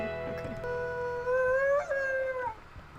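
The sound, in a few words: wolf howl in a wolf video game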